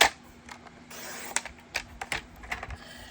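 A piece of paper card is cut to size with a trimmer, giving a few short, close slicing and clicking sounds in a quick irregular series.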